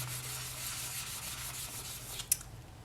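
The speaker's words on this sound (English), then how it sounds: "So, I'll just carry on sanding" Polymer clay beads being hand-sanded with high-grit paper, a steady soft rubbing hiss with one brief sharper scrape near the end, close and quiet with a low steady hum underneath.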